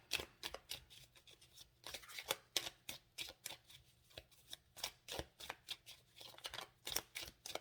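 Tarot cards being shuffled by hand, a rapid series of crisp riffling bursts in uneven rhythm, close and quiet with no talk.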